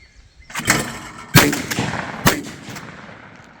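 A Smith & Wesson M&P12 bullpup 12-gauge shotgun fires three loud, booming shots outdoors, each blast followed by a short echoing decay.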